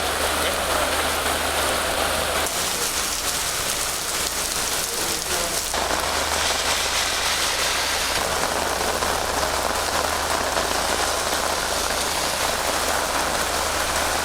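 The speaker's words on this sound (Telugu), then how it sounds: "హైదరాబాద్లో కుండపోత వాన పడుతోంది." Heavy rain pours steadily and loudly in Hyderabad, a dense, unbroken hiss of water hitting surfaces with no voices.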